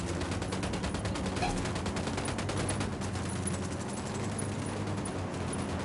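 Sustained automatic gunfire in Ghost Recon Wildlands, a dense, loud, rapid stream of shots that runs steadily throughout with no voices over it.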